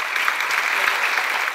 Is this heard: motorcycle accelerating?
no